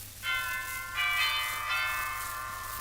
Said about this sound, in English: I walked up to the cottage, rang the bell.